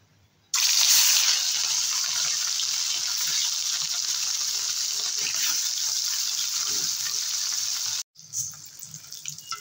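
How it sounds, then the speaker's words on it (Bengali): Katla fish pieces fry in hot oil in a wok, a loud steady sizzle that starts abruptly, holds evenly, then cuts off before quieter kitchen sounds. "এবারে মাছগুলো ভেজে নেব।"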